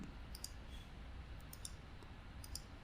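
Computer mouse clicks tapping sparsely and faintly, a handful of light, sharp ticks spaced irregularly over a low steady room hum, with no voices.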